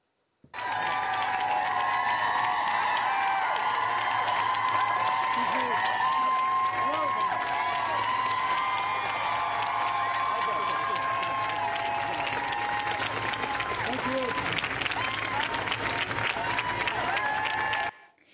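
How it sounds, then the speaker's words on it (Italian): White House staff of the US federal administration applaud and cheer the vice president on her return to work, a long continuous wash of clapping and cheers lasting well over fifteen seconds before cutting off abruptly. "la vicepresidente è tornata al lavoro accolta dagli applausi eh, della Casa Bianca, dei dipendenti dell'amministrazione federale degli Stati Uniti"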